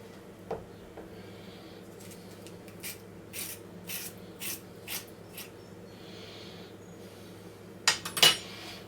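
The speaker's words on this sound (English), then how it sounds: "Use a spoon. Scrape out the seeds." A metal spoon scrapes the seeds from a halved, partly peeled cucumber in a kitchen, giving a series of short, soft scraping strokes at a steady pace, with a sharper clatter near the end.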